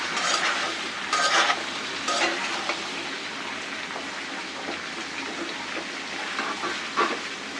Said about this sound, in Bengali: পটলটা কিন্তু ভাজা ভাজা হয়ে গেছে